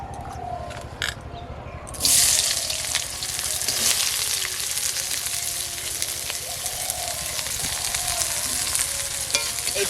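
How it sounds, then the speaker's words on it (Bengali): Onions frying in hot oil, a loud steady sizzle and crackle that swells after a brief quieter start, with occasional scraping stirs and no talk. "মাছ ভাজা হয়ে গেছে, এবারে পেঁয়াজ ভাজবো"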